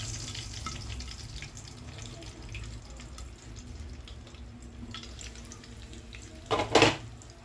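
Curry leaves fry in a little oil in a pan, giving a soft, steady sizzle and crackle close by, broken near the end by a brief louder clatter of cookware.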